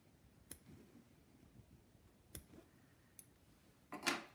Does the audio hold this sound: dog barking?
no